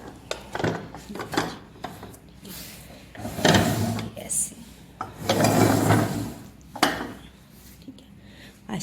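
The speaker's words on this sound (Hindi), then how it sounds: "ये प्लेट्स मैंने वॉश कर ली हैं और अब ये मैं रखने लगी हूँ" Washed plates and dishes being set down on a table, with several sharp ceramic clacks and clattering knocks at uneven intervals, close by, while someone speaks briefly between them.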